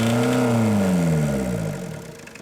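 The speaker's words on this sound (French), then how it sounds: "l'on peut parfois entendre le cognement du moteur diesel." A diesel engine runs while EGR cleaner is sprayed into the intake, its steady drone shifting in pitch as revs rise and then fall, fading slightly toward the end.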